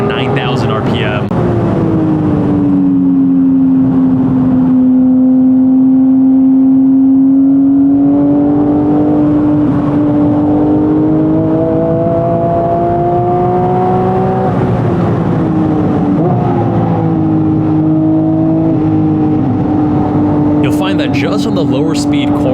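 Porsche Cayman GT4 RS with a GT3 engine revving hard on a race track, a loud sustained high-pitched engine scream that rises and falls through gear changes and lasts throughout.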